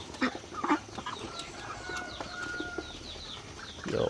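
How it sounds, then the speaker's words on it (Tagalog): Ducks on a duck farm give short quacking calls, with several brief bursts from a flock at moderate distance over steady outdoor background noise. "ating mga itik"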